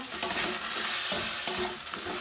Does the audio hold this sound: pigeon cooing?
no